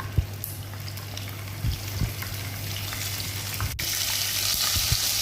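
Whole spices sizzling in a little desi ghee inside a handi, a steady close crackling fry with soft pops that grows slightly louder toward the end.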